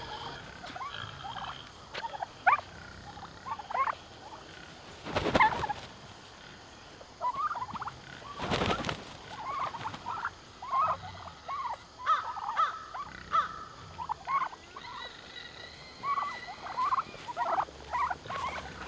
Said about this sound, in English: Yeah, turkeys are fun.